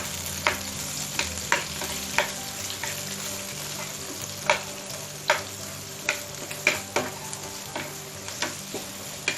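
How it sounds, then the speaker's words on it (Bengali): Chopped onion and garlic fry in oil for a beef nihari, giving a steady close sizzle broken by frequent sharp clinks and scrapes of stirring, with no voices. "আমি 2 টেবিল চামচ পরিমাণ পেঁয়াজ কুচি এবং 1 টেবিল চামচ পরিমাণ রসুন কুচি দিয়ে এটাকে ভেজে নেব।"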